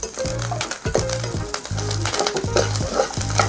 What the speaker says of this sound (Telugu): కొంచెం కరివేపాకు వేసుకొని ఇది కూడా కొంచెం వేయించుకోవాలి.